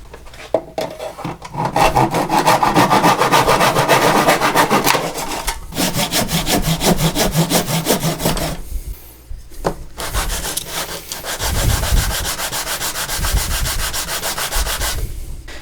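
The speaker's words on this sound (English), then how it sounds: "we're going to cut out the plate that holds all those pipes together" Sawing and sanding a wooden plate cut from a template in a workshop, long stretches of steady rhythmic rasping strokes broken by short pauses, loud and close with no talk.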